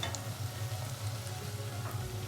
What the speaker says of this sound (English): Everything is frying